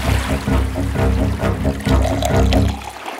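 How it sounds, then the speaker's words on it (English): Water pours and gushes loudly and steadily into a room, a continuous splashing rush that fills the whole stretch and eases off at the very end. "Oh no! The water is rising!"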